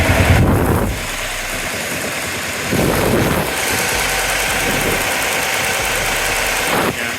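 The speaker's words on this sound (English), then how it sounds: "You can see the fan blades are spinning. Okay, it's very quiet." An aftermarket Tusk radiator fan running on a KLR 650 motorcycle: a steady, fairly quiet whir over a low idling engine rumble, with a faint tonal hum and a few brief shifts in level.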